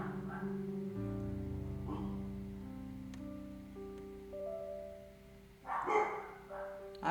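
Household dogs let out a few barks late in the clip, moderately close, over a quiet background with sustained tones.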